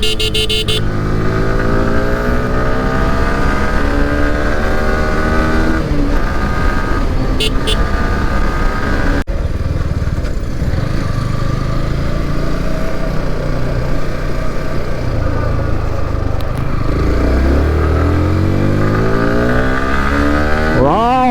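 A new motorcycle rides along with a quickshifter, engine droning loud and close with rising revs and abrupt breaks at gear changes, wind and road noise throughout.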